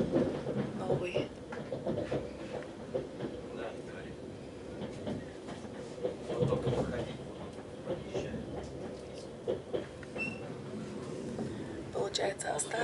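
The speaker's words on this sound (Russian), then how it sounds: "И мы отъезжаем от вокзала Адлер." A Lastochka electric train departs Adler station with a steady low rumble and faint rhythmic rail clatter, heard from inside the carriage while a person talks throughout.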